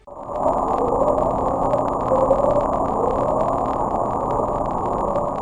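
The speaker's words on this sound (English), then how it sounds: "It's not just noise, it's a series of short ascending tones repeated at intervals of several seconds." A hydrophone recording from the Pacific Ocean of the mysterious underwater sound called Upsweep: a loud, steady, dense low rumble with faint tonal lines and scattered clicks, heard alone for the whole stretch.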